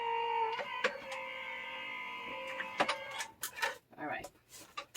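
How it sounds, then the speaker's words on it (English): A die cut machine runs paper through, a steady mechanical whirring hum with tonal whine and clicks for several seconds, then stops into shuffling handling noises and a person talking. "I ran it through my die cut machine 3 times"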